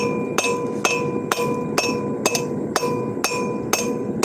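A hammer pounds a hot railroad spike on an anvil while it is forged into a kukri-style recurve knife: about ten evenly paced, ringing blows at roughly two per second, close and loud, with no talking.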